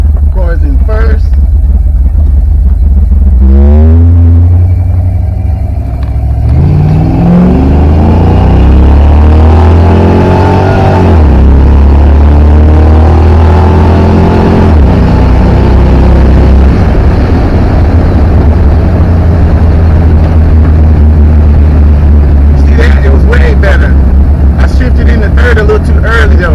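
An automatic Foxbody Mustang engine roars loud and close, rising in pitch as it revs, dropping when it shifts, then climbing again through the gears, with a person talking over it.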